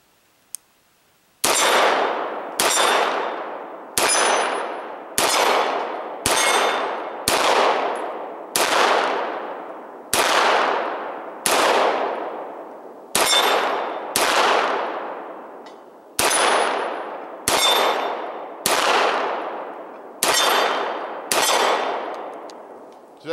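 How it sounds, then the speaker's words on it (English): A Beretta 92 FS Inox pistol fired at steel plate targets outdoors: after a faint click, about fifteen loud shots come at a steady pace, each with a bright metallic ring from the struck plates. "Let's go ahead and shoot some of my targets here."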